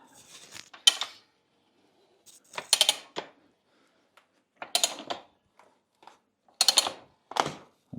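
A tire changer mounts the bead of a 14-inch dirt bike tire with an inner tube onto a street bike rim, producing separate bursts of clanking, ratcheting and metal scraping with quiet gaps between them.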